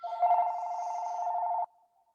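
A telephone rings with a steady electronic tone, one sustained ring lasting about a second and a half, close and clear, then cutting off abruptly, with no talk over it.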